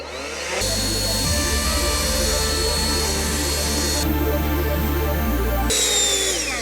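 Cordless SEQUOIA SBLB4022BT leaf blower clearing a forest floor, a loud steady motor whine and rushing airflow that runs without a break, its pitch stepping up and down as the speed changes.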